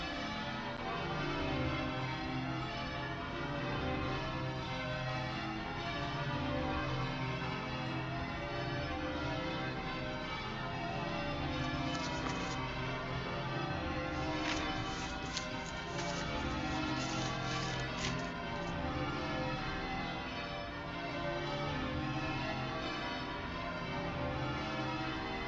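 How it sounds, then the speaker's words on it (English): Dense, continuous pealing of the new Bow Bells church bells, loud and steady for the whole stretch, with overlapping rings blending into a full wash of sound. "I thought you ought to hear the new bells as you've heard the others"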